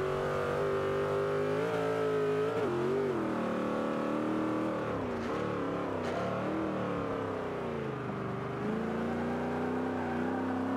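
A modern muscle car's engine revs in the racing game Forza Motorsport 5, a loud, continuous throaty drone whose pitch swells and dips as the throttle is worked, heard alone without talk.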